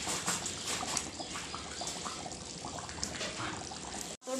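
Water is poured and splashed during washing, a continuous close trickling and gushing that runs unbroken for several seconds before cutting off abruptly near the end, with faint bird-like chirps in the background.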